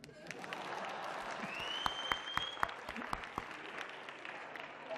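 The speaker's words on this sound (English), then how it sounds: "You can clap." An audience at the Phalaphala FM Royal Heritage Festival 2023 media launch gives soft, distant applause, a steady patter of many hands with a few sharper claps standing out, faint and unbroken.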